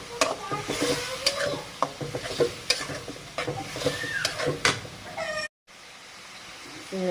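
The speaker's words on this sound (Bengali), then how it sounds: "মশলা ভাজা হয়ে গেছে, আমি এবার চিংড়ি মাছগুলো দিয়ে দিচ্ছি" Shrimp hit a pan of fried ground spices and sizzle loudly up close, with repeated spatula scrapes and stirring knocks in an uneven rhythm, then a short gap before quieter frying continues.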